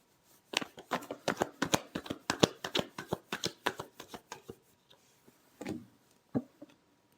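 A deck of cards is riffle-shuffled close up, a rapid burst of crisp fluttering snaps for several seconds, followed by a few softer taps and shuffles.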